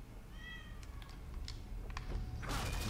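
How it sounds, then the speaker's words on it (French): A cat meows faintly a few times amid a dark ambient soundscape in the survival horror video game The Evil Within, set in a village, with game noises swelling toward the end. "Il commence à me saouler, le chat, là."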